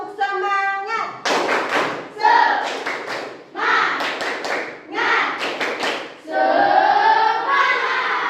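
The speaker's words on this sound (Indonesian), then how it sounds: "Sekarang sebelum belajar Ibu mau kita tepuk semangat." A classroom of children performs a rhythmic spirit clap before a lesson in bursts of sharp, loud claps and thumps that alternate with sung or chanted voices, in a repeating pattern.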